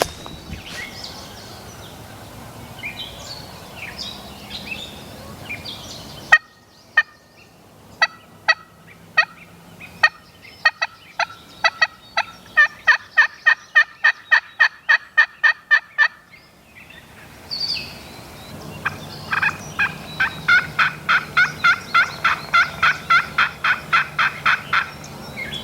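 A wild turkey tom gobbles repeatedly in spring woods, each call a rapid, rattling burst, some sounding distant and others closer, with quiet gaps between them and no talking.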